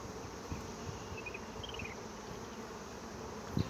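A prime swarm of honey bees buzzes in a dense, steady outdoor hum, many wings droning together at moderate distance with no voices.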